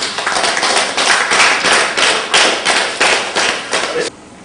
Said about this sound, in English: To give Alex a very big clap